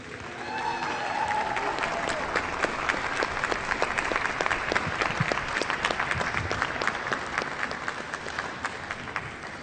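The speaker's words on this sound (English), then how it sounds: "That's Aston Martin up there, applauded by the way" An audience bursts into sustained applause at the unveiling of the new Aston Martin DB10, dense clapping from a large crowd continuing steadily for nearly ten seconds at moderate distance.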